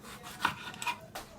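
A knife slicing tomatoes on a cutting board in a home kitchen, a few soft, brief cuts and rubs, faint and close, with no speech.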